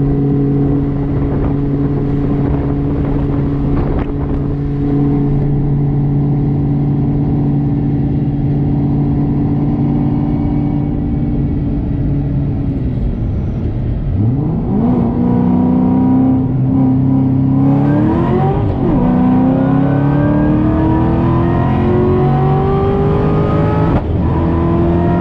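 A Ford GT500 accelerates hard through a 60-130 mph run on an open road. Its engine roars loud and steady, then the pitch climbs sharply through gear changes toward the end.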